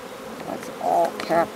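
Honeybees buzz in a wooden hive box during a transfer into a ten-frame hive, a close, steady drone with a few louder passes as bees fly near.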